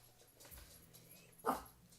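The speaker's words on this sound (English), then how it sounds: "that's my dog" A Shih Tzu lets out a single short bark indoors, fairly close and moderately loud, following a faint whimper against a quiet room background.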